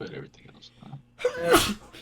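A person sneezes sharply once, close and loud, in a casual podcast conversation, with talking just before it.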